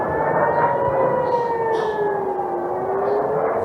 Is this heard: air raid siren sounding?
yes